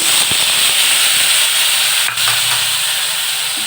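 Spice paste for a chickpea masala hitting hot oil in a wok, a loud continuous sizzling hiss with a sharp pop near the start and a brief crackle partway through.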